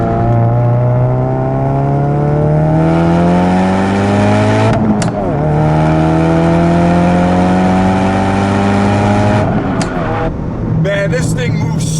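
A 2017 Ford Focus RS with 360 wheel horsepower pulls hard in second gear, its engine note climbing steadily in pitch with brief dips at gear changes, loud and droning from inside the car.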